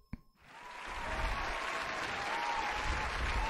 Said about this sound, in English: let me just give myself a round of applause here